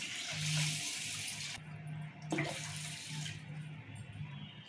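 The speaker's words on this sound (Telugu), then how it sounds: "ఇప్పుడు నీళ్ళు పోసి నానబెట్టుకుందాం మనం" Water poured over washed rice to soak it for a vegetable biryani, a steady splashing gush that runs for several seconds with a brief break and a renewed burst midway, close and fairly loud, with no talking.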